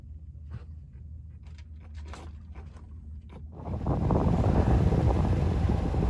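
Offshore wind gusting over a sailboat off the coast of Maine: a few seconds of low rumble with light knocks, then a sudden loud, steady roar of wind buffeting the microphone for the rest of the clip, with no voices.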